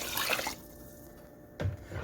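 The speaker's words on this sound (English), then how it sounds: "now I'm going to add in the broth so that I can cook the rice" Chicken broth poured from a measuring cup into a pot for cooking rice, a close liquid splash and trickle at the start, then a quieter stretch before another brief burst of pouring.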